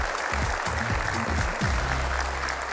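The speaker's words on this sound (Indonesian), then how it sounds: "Tepuk tangan dulu untuk kita semua sudah hadir di studio malam ini." Thick, continuous applause fills a television studio audience on an evening show, a steady wash of clapping with low music tones running underneath.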